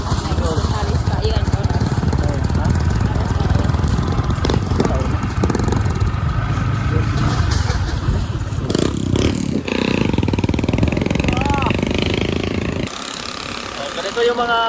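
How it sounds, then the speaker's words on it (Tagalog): Local motorbikes on a rural road in Barangay Mascap, Montalban, Rizal, their engines rumbling and clattering close by in a steady, loud drone, with speech intermittently over the noise. "Ganito yung mga motor nila dito guys."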